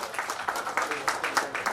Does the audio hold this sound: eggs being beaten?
no